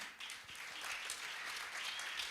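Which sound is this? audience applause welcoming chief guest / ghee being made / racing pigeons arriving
audience applause welcoming chief guest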